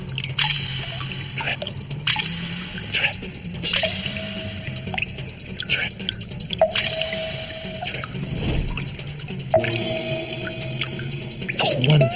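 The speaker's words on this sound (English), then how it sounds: "Just one little drip at a time, one little drip at a time." Water dripping inside a cave, with repeated drops falling at an irregular pace over a reverberant, echoing background, fairly close and clear.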